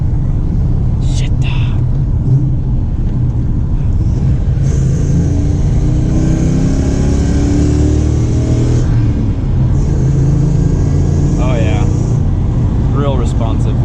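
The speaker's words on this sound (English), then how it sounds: "We got V8 noises, the sound of our people." A Lincoln Mark VIII V8 with headers and a manual transmission pulls hard from inside the cabin, its deep rumbling drone rising steadily. Speech is heard over the engine.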